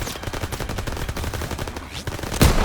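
Rapid video game gunfire aimed at a monster's legs and head, a dense stream of shots with a louder burst near the end, mixed with background game noise.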